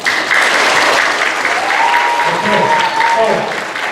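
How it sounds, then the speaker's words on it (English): Middle school students applaud at an assembly with a youth speaker, sustained clapping from a large audience across four seconds, with voices and a few whoops cutting through the clapping. "All right, give a round of applause."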